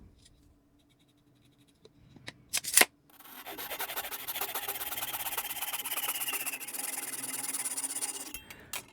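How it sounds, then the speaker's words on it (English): A handsaw cuts through a dry wooden stick to make a 3-inch piece for a wooden whistle: a couple of light knocks, then about six seconds of steady, close rasping strokes with no talking. "I'm just using a handsaw, and I'm going to be cutting a piece that is 3 inches long"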